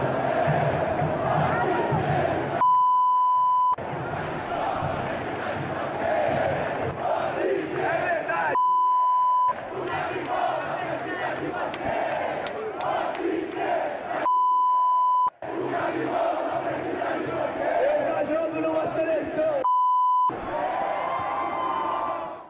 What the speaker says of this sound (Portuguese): A torcida do Flamengo externou a sua opinião, né, achando que o Gabigol deveria estar na seleção e cantou a musiquinha